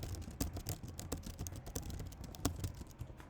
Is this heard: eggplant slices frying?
no